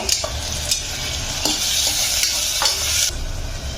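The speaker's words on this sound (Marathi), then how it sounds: "आपला कांदा आणि टोमॅटो छान परतून झालाय" Onion and tomato frying in a pan while being stirred, a steady close sizzle with a few sharp scraping strokes of the spoon, no voices.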